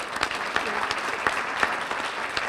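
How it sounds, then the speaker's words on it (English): Audience applause at an NAACP South Oakland dinner in 2012, a dense wash of many hands clapping steadily throughout at moderate volume, with faint voices mixed in. "I just want to give her a round of applause."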